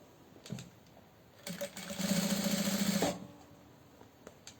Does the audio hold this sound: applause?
no